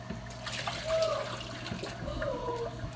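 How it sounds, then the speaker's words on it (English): Water dumped out of a pot while preparing tamale meat, a steady splashing trickle with a couple of brief surges, fairly close and alone. "Let me dump some of this water out."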